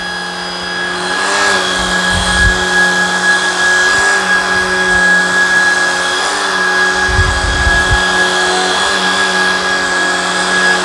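A Shark Vertex cordless vacuum cleaner head runs on carpet with a loud, steady motor whine and a constant high tone, with slight surges as it is pushed back and forth.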